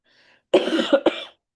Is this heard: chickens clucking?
no